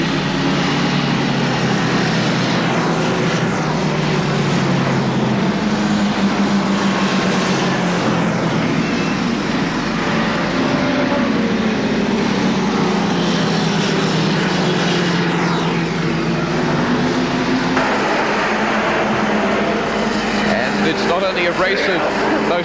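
Racing motorcycles roar past continuously at the 1979 Castrol 6 hour race, a steady loud engine drone with shifting pitch as bikes pass, under a commentator talking throughout.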